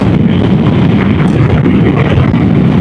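Strong side wind buffets a motorcycle on a highway, a loud, steady low roar of wind and road noise pressing against the rider with no talk.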